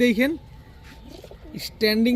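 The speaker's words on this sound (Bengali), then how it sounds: "এখন দেখাবো একজোড়া ইন্ডিয়ান সাহারানপুরি কবুতর।" A pair of Indian Saharanpuri pigeons gives a few soft, low coos, with brief voiced bursts at the start and end.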